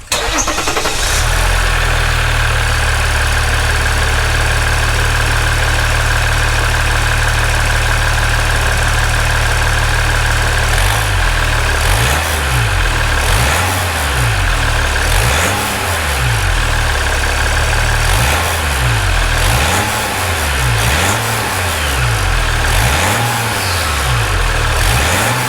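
A Ram EcoDiesel 1500 turbo diesel pickup engine cranks, catches and settles into a loud, steady idle with a deep diesel rumble and rhythmic knock, heard up close with no talking.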